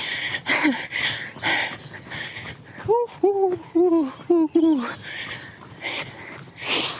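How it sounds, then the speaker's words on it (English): Pigeons coo in a short run of about six soft, rounded, repeated calls close together, set against a steady outdoor background. "pigeon noise is so comforting to me."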